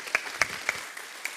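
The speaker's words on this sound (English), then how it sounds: "An applause for Pablo." Audience applause at a conference lightning-talk session, a short burst of sparse, distinct claps with a few sharp peaks, fairly faint and without talk.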